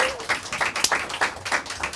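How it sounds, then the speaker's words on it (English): Brief, light applause from a small game show audience for the contestants, with sparse, uneven claps and a voice briefly audible at the start. "Everybody give our contestants a round of applause."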